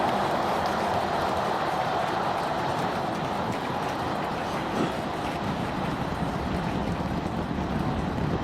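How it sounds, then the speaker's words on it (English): Roar of SpaceX Starship SN33's 33 booster engines in flight, pitching downrange: a steady, dense, broadband rumble that fills the whole span at constant loudness, distant and unbroken, with no voices. "Telemetry showing 33 out of 33 engines as it's pitching downrange."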